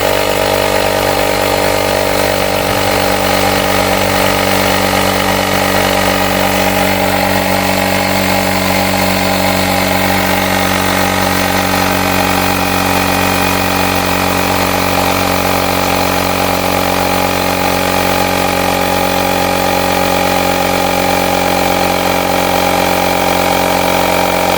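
Blackfoot cordless inflator pumping air into a car tire, a steady loud motorized buzz with a dense rattling drone that runs continuously without pause, close up and alone with no talking.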